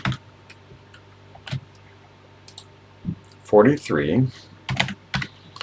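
Key clicks on a TI home computer keyboard, scattered single presses and then faster bursts of typing, close and crisp, while someone talks over part of it.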